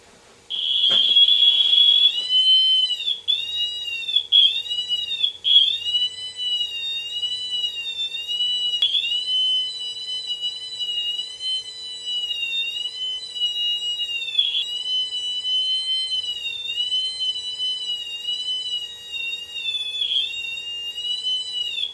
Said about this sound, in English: It'll give you a high-pitched noise, and the closer your hand gets to it, the farther away it will change the tone of it.